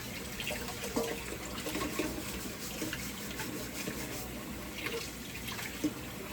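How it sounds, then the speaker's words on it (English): Tap water runs steadily into a sink as something is rinsed under it, a continuous close hiss of flowing water with faint splashes and no talk, during home baking of beet red velvet cupcakes. "Alright, rinse it out."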